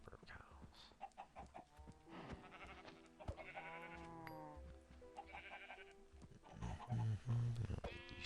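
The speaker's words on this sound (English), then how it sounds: "These sheep in here." Sheep bleat amid a crowded Minecraft farm pen with chickens and other livestock, several wavering calls overlapping at moderate volume, with more animal cries following in a busy cluster.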